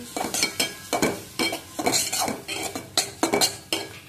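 Turmeric and chili masala being stirred and fried in a pan, heard as rapid, close metal spatula scrapes and clinks in a brisk, uneven rhythm over a faint sizzle, with no speech.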